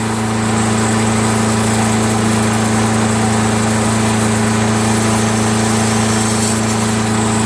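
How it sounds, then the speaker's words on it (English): A Briggs & Stratton Quantum 6HP engine on a Craftsman mower idles steadily and smoothly, a loud, even, close drone with strong low tonal hum and no surging or knocking, alone throughout. "Engine runs nice and smooth, doesn't surge, doesn't knock."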